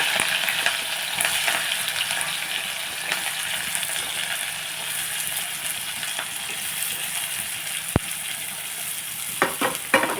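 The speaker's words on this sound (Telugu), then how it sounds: "మనం కొంచెంసేపు ఫ్రై చేసుకున్నాం" Onions and green chilies frying in hot oil in a pan, a loud, dense, continuous crackling sizzle with occasional stirring clinks of a utensil.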